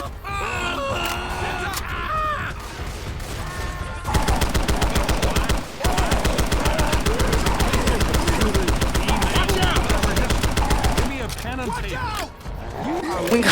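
Sustained automatic gunfire in Left 4 Dead, a loud, fast, steady stream of shots lasting several seconds between stretches of game noise, groans and a speaking voice.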